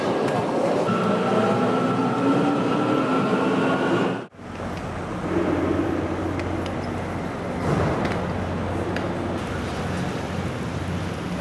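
Rumbling interior of a commuter train on São Paulo's Diamond line, a steady loud drone of wheels and carriage noise that dips briefly before resuming, with crowd murmur faintly underneath.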